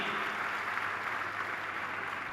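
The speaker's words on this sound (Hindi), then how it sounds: "जोरदार तालियां बच्चे के लिए बजाइए" Audience applause for a boy who stood up during a Hindi spiritual discourse hall gathering, a steady dense wash of clapping sustained throughout without breaks.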